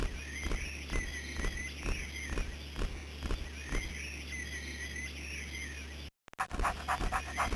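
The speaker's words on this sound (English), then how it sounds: "Super cute little doggy." Rhythmic dog panting in a video game, quick regular breaths close up over a steady electronic hum, ending abruptly in a brief dropout.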